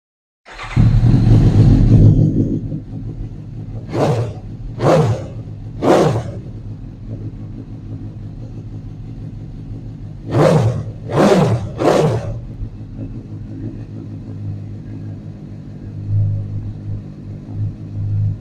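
A Suzuki GSX-S750 sport motorcycle engine roars to life, settles into an idle, then revs sharply three times, idles again, and revs three more times.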